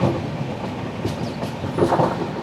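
The Netravati Express running on the rails past Ratnagiri, a steady close rumble of wheels with faint clickety-clack beats and rising bursts of rattle, no voices.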